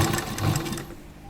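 A sewing machine runs in a short steady burst as it stitches a dress, its fast even whirring close and clear, then it stops.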